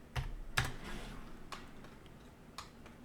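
A computer keyboard struck during spreadsheet data entry, with a few sparse, sharp key clicks and one firmer press of the enter key, close up against a faint steady room hum.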